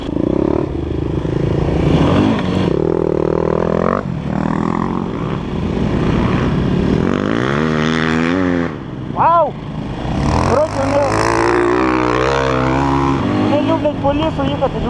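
Yamaha YZ 250 and other dirt bikes ride through a forest, engines revving and rising in pitch with rattling clatter, mostly beneath ongoing talk.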